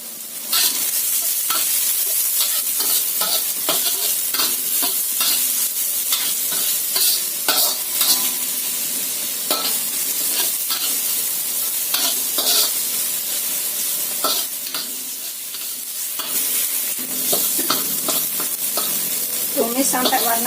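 Chopped aromatics and shallot stalks stir-fry in a wok for halal Chinese-style steamed ginger chicken, with a steady loud sizzle throughout and repeated scraping of the spatula stirring.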